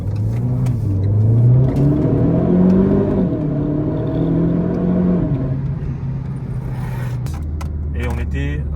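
A Renault Clio 4 RS accelerates in normal mode, its engine rising through the revs, dropping at a gear change, then climbing again before settling to a steady drone, heard from inside the car with a voice talking over it.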